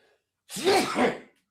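A single sharp sneeze bursting out close and loud in a quiet room, lasting about a second with two quick pulses, with nothing else around it.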